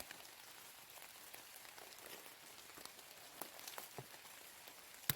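Light drizzle falls in the mountains, soft and steady with scattered faint droplet taps, quiet and even throughout.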